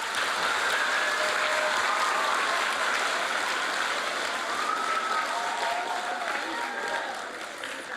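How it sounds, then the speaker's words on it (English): An audience at a Jane Goodall Institute wildlife event at a school gives a big round of applause for a Roots and Shoots program. The clapping is loud and sustained, with faint vocal cheers mixed in, and it eases off near the end. "Big round of applause."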